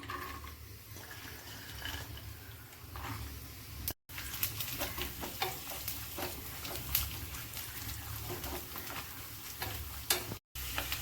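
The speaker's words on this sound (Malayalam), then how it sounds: "നെയ്യ് ഒന്ന് ഉരുകി വരുമ്പോൾ നമുക്ക് അതിലേക്ക് തേങ്ങാക്കൊത്ത് ഇട്ട് കൊടുക്കാം" Coconut pieces frying in melted ghee in a pan, a steady soft sizzle with occasional stirring scrapes, close and quiet, no voices over it.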